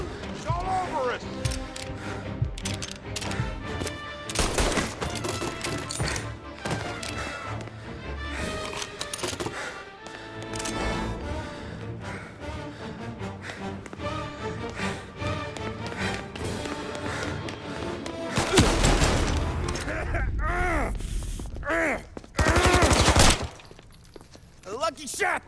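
Gunfire in the video game Mafia Definitive Edition: repeated sharp shots and bursts crack through a busy mix of game music and effects, with a louder flurry near the end.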